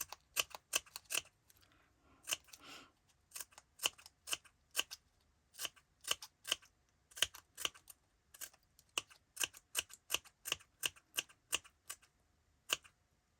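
Scissors make quick, close, crisp snips while cutting fringe into a paper feather embellishment, short clicks in uneven rapid bursts with brief pauses between runs, quiet and without talk.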